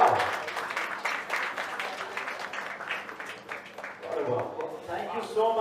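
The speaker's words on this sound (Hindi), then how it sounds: "जोरदार तालियां" Loud, dense applause fills the room at the launch of Kaccha Lemmon Productions, with a crowd clapping steadily throughout and voices talking and cheering over it.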